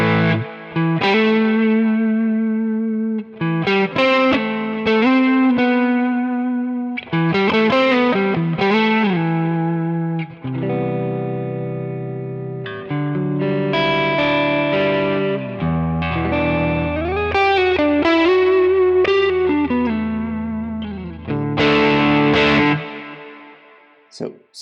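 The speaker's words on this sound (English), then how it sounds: "this is the OD side of the King of Tone" Electric guitar through the overdrive side of a King of Tone pedal, loud driven chords and picked notes with a thick, fat gritty tone, played in phrases separated by short breaks.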